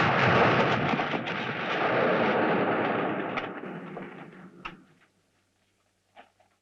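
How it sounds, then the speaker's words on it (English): An old mine blowing up in a Western setting: a loud, broad rumbling blast that roars for several seconds, then fades out with a few scattered thuds and debris impacts. "This old mine's about to explode."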